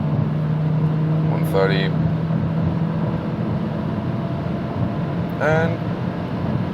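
A Renault Arkana RS Line turbo engine accelerates on the motorway, a steady low drone with road noise beneath a voice as he talks in short bursts.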